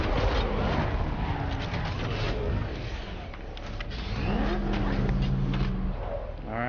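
A heavy video game armored car engine, the Batmobile in Batman: Arkham Knight, rumbles and revs continuously, swelling as it draws closer, with mechanical whines and clanks over the drone.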